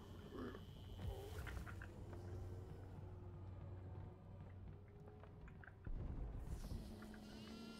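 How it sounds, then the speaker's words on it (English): A goat bleats in the horror video game Devour, its calls layered over a busy, continuous game soundscape with steady low hum and scattered effects. "The goat's still down here, but I don't have hay now!"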